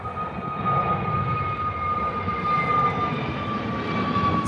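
A Jet2 Airbus A321 takes off at Birmingham Airport, its jet engines giving a steady, loud roar with a faint whine above it, heard from a distance across the airfield and with no voices.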